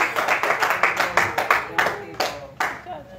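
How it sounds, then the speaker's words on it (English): Clapping rings out in a church, a group clapping together in a loose rhythmic beat that thins toward the end into a few scattered, separate claps. "Come on, give them a round of applause."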